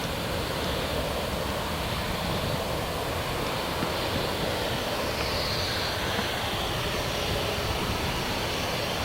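An EasyJet airliner on runway 25 at Luton Airport gives a steady, broad jet roar at moderate distance, unbroken and without voices.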